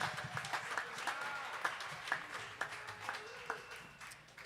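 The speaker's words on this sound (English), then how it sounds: "please give a round of applause" A small audience at a big band jazz performance gives a light round of applause, with scattered individual claps standing out at a moderate distance amid quiet room murmur.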